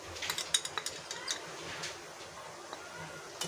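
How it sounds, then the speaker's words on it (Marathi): Turmeric sautéed with onion and kokum in a pan, with light metallic clinks and taps of a spoon against the pan close by, clustered at first and then sparser, over a soft background hiss. "हळद छान परतून घ्यायची।"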